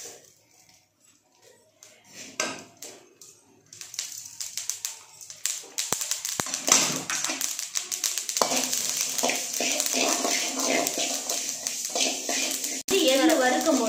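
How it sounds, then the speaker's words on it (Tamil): Sesame seeds dry-roasting in a hot pan give off dense, rapid crackling and popping that builds from sparse ticks to a busy, continuous patter, with occasional scraping and stirring against the pan and brief speech mixed in. "எள்ளு வறுக்கும் போது நல்லா படப்படம், இப்போ வறுக்கும் போது நல்லா படப்படம் பொரியும்"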